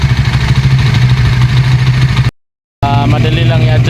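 A Suzuki Raider 150 Fi motorcycle idles close by with a steady low putter, running on evenly before a brief gap, then resuming.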